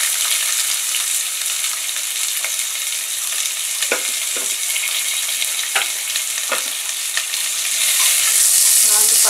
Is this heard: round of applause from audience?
no